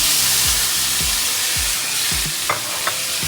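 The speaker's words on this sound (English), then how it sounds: "So what I'm going to do is just take this off and then return the stir fry back in." Stir fry sizzles steadily in a hot pan with a loud, constant hiss, broken by repeated scraping stirs and a couple of sharp clinks of utensil against pan.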